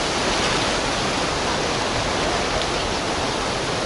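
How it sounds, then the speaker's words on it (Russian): Maly Salgir river in flood near its confluence, a raging torrent of water roaring loud and steady, a dense unbroken rush with no voices. "это мы уже подходим к слиянию двух рек, и это у нас Малый Салгир так бушует"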